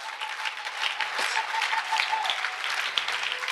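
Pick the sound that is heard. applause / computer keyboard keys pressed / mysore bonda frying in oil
applause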